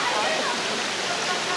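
Earmayi waterfall pouring, a constant broadband rush of falling water, loud and close, steady from start to end with no other sounds standing out.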